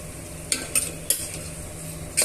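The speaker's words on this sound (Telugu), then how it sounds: "ఇవన్నీ కూడా బాగా వేయించేసుకోవాలి బ్రౌన్ కలర్ వచ్చేంత వరకు వేయించుకోవాలి" Onions and green chillies fry in a pan, giving a steady low sizzle, with a few sharp stirring clinks and scrapes of a spoon against the pan standing out at intervals.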